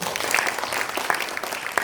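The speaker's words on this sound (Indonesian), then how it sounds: "Tepuk tangan dong buat Prudential" Applause for Prudential at an Indonesian recruitment and career talk, a short burst of scattered clapping from a modest audience with a few sharper claps standing out.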